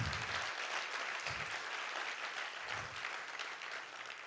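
An audience at an INSPIRE 2021 talk applauds steadily, a thick continuous patter of many hands at moderate distance, sustained throughout with a few low thumps underneath.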